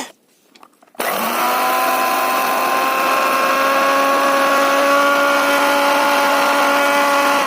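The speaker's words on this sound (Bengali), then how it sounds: "একটু সর্ষে বেটে নিচ্ছি কাঁচা লঙ্কা দিয়ে" An electric mixer grinder whirs loudly and steadily as it grinds white and black mustard seeds with green chillies into a paste, starting abruptly after a near-silent moment and running on unbroken.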